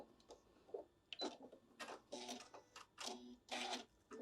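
A sewing machine stitches fabric to make an eyeglass protector, running in short close bursts of rapid mechanical whirring with brief pauses between passes.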